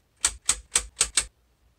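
A staple gun fires five quick, evenly spaced snapping clacks while fastening fabric onto a wooden sound absorption panel frame, close and crisp, then silence.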